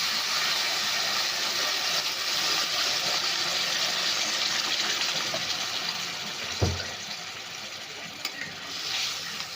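Water poured into a pan of simmering papaya curry, a broad steady hiss and sizzle throughout with a brief low splash near the end.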